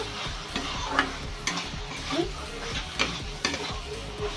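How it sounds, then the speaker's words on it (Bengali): Okra stirred and fried in hot oil for a mustard-style okra dish, a steady sizzle broken by repeated scraping and clinking stirs of a utensil against the pan, close and fairly loud, with no talk. "এবারে আমি ভেন্ডিটা দেব। ভেন্ডিটা দিয়ে নাড়াচাড়া করব।"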